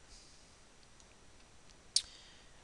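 A single sharp mouse click when export is pressed while making a PDF, close and brief against a quiet faint hiss.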